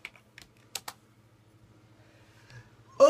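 A few quick clicks on a computer keyboard as a search term is entered, sparse taps spread over a quiet room with a faint low hum and a louder thump at the end.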